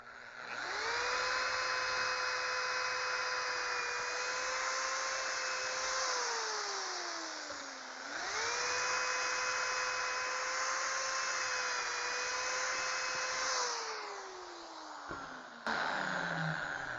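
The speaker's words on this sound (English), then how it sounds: "Take your special drill bit," A powered drill with a special jig drill bit whines steadily through two long passes while making arched cabinet doors, pitch sagging as the bit bites in, then winding down at the end; loud and close.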